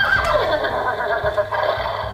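Electronic toy horse from the Qui l'a vu? board game neighing, a loud continuous whinny with a faint low rhythmic hum underneath throughout.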